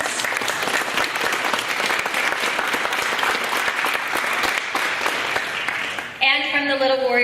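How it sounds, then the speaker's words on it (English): Steady, dense applause from an audience at a Little Warriors board introduction, loud and sustained for about six seconds before a brief tonal voice cuts in at the end. "Let's give them a round of applause."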